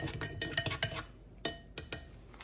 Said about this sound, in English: You mix that up a little bit.